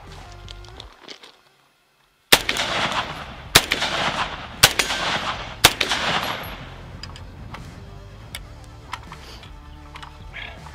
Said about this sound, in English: So, Clean, would you like to put a few rounds through this baby?